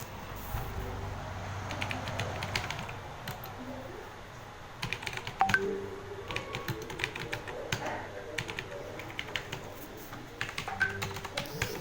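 An address is typed on a computer keyboard in irregular clusters of quick, close key clicks, pausing now and then, over a faint room hum.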